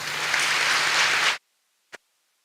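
A hall audience at a murabbi session applauds the speaker in a brief, full burst of clapping that cuts off abruptly after about a second and a half, followed by a single faint knock.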